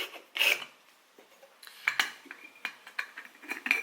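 A metal greca stovetop coffee maker is opened up close by, with scraping metal-on-metal twists and a run of light clinks and taps, irregular and without talking.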